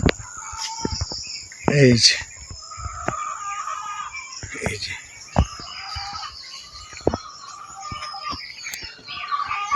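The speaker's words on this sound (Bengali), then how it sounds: "এই যে হলো মুরগির খামার।" Chickens at a poultry farm cluck and crow intermittently, with one louder call near the start and scattered bird calls after it, while someone speaks briefly over a quiet outdoor background.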